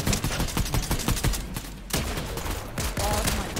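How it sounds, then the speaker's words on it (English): Rapid gunfire from a Fortnite match rattles in dense, overlapping bursts, with a brief lull midway before the shooting picks up again, loud and continuous throughout. "Who's shooting?"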